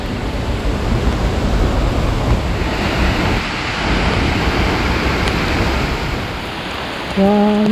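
Waterfall in the rainforest on the Bolaven Plateau of southern Laos, a steady, dense rushing roar of falling water close by that holds unbroken throughout, with a brief tonal sound near the end.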